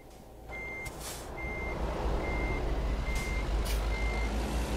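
A truck in American Truck Simulator backs up, its reversing alarm beeping steadily in an evenly spaced series over a constant engine rumble, with a few brief air hiss bursts and no talking.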